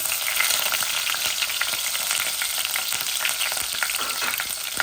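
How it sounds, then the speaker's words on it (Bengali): Frozen garlic cloves spitting in hot oil with dried fish and cumin, a continuous bright crackling sizzle with dense popping, fairly loud and steady throughout. "এগুলা ফ্রোজেন রসুন তো, একটু ফুটতেছে"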